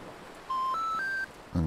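A phone number is keyed in on a handset in the M/S Cornelia II Incident mystery adventure game: three clean rising dial tones in quick succession, followed by a short click.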